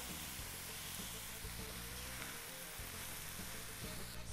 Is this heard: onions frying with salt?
yes